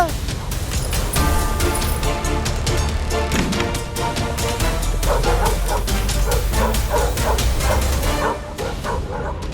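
Cartoon dogs bark and yip repeatedly in a loud, busy scene over a dense music score, with occasional whimpers mixed in and a steady rhythm of sound effects throughout.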